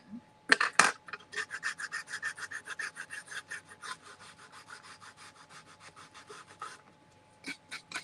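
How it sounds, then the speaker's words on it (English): Rapid, rhythmic rasping strokes of sandpaper on the raw wooden edges of a 10 by 10 canvas frame, close and steady, pausing briefly before a few final rubs. "So I'm just sanding all of the raw areas."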